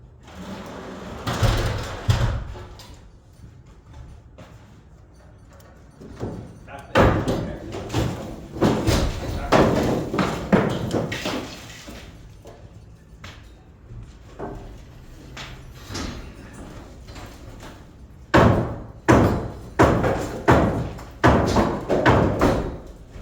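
Rotten second-floor flooring in a collapsing old corner store is pried up with a 2x4, giving bursts of heavy wooden thuds, creaks and knocks close by, separated by quieter pauses.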